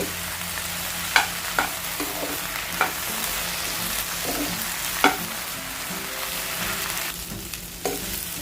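Okra (bhindi) stir-frying in a pan, a steady close sizzle with several sharp scraping clicks of a spatula against the pan at irregular intervals, no voices.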